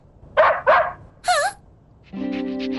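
A dog gives two sharp barks, then a whining yelp, followed by a steady tonal hum.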